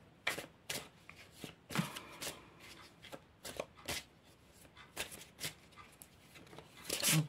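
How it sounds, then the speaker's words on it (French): A deck of oracle cards is shuffled close by in repeated riffling bursts of soft papery slaps, with no talking. "je vais battre les cartes du coup"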